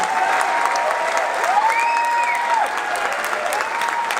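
A crowd claps steadily in loud, sustained applause for a middle school chorus, with a faint tone gliding faintly through the noise.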